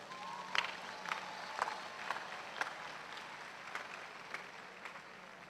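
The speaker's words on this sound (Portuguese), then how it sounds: "Pode aplaudir essa palavra" A church congregation in Angola claps during a Catholic sermon, giving a faint, distant spatter of applause with a few sharper claps standing out.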